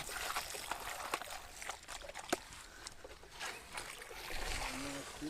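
Water splashes and trickles as someone washes their feet at a large water tank, with irregular close splashes and one sharp slap, faint and unsteady, and no clear talk over it.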